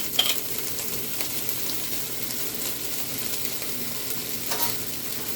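Minced garlic thrown into a hot pan of nearly done vegetables, sizzling steadily while being stirred and scraped, moderately close and free of talk.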